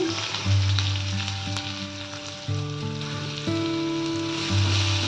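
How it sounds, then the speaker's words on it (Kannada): Chopped onions frying in hot oil for capsicum rice make a steady, loud sizzle that runs through the whole stretch, with no talking over it. "ಹೆಚ್ಚಿಟ್ಕೊಂಡಿರೋ ಈರುಳ್ಳಿ ಹಾಕ್ತಾ ಇದ್ದೀನಿ."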